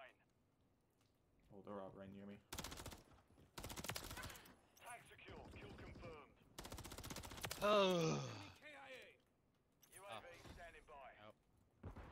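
Bursts of automatic gunfire ring out in Modern Warfare III beta multiplayer, several sharp loud volleys separated by gaps, with someone talking between and over them.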